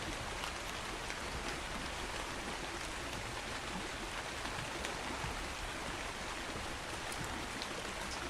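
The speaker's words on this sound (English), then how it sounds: "The rain noise in the background makes sound like ASMR really." Gentle rain falling in the video game ARK Survival Ascended, a soft continuous hiss of drops on surfaces that stays even and steady in the background, with no speech.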